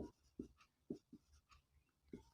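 Chalk writing a chemistry formula on a classroom board: a series of short, sharp taps and scratches in an irregular rhythm, close and quiet, with no talk.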